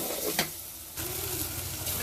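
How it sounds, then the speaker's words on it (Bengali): Chili paste water poured into spices frying in a pan brings a soft sizzle that briefly dips and then resumes, faint and close, with a small clink near the start. "এই যে মরিচের পানিটা, এটা মরিচ বাটার পানিটা, এটা দিয়ে দিচ্ছি।"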